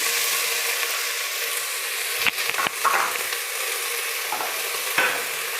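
Bitter gourd and fresh field beans frying in a pan, a steady bright sizzle with a few stirring scrapes and clinks, close and continuous with no talk.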